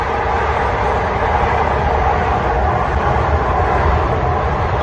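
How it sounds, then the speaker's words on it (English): A train passes close by as a loud, steady, broadband rumble and roar that fills the whole stretch without letting up, with no talk. "I'm sorry about the train."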